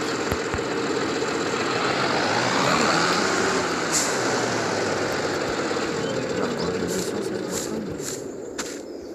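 A continuous low rumbling tractor engine drone in the video game Farming Simulator, steady and loud throughout, with a faint clatter near the end.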